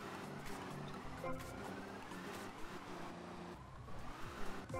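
Off-road vehicle engine from GTA Vice City runs steadily with revving surges and tire noise, a continuous motor drone throughout with brief louder bursts near the end.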